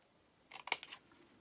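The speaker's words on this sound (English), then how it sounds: "Now we cut a little V notch here." Scissors cut a small V notch in paper for a handmade memory book, a quick cluster of close, crisp snips lasting under half a second in a quiet room.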